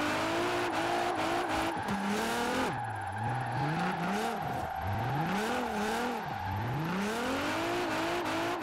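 An Infiniti Q50 drift car in Forza Horizon 4 climbs a hill course, its engine rising and falling sharply through gear changes and throttle swings while the tyres squeal continuously, loud and close.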